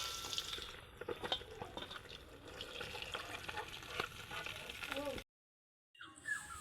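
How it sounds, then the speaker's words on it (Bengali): Fish pieces frying in oil in a wok for a Bengali meal, giving a close, steady crackling sizzle with light scraping, briefly cutting out near the end before resuming. "এইবারের মাছগুলোও একই রকমভাবে ভেজে নিলাম।"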